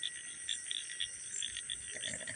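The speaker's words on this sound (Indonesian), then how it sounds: "Suara kodok nyanyi" Frogs croak at dusk across flooded rice paddies in a village, a steady, faint chorus of repeated chirping calls with no voices.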